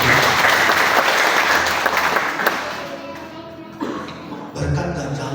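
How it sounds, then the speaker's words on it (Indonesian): A church congregation breaks into applause during a sermon, a dense burst of clapping that tapers off over several seconds, with a few scattered claps and murmurs trailing at the end. "Kita berikan tepuk tangan."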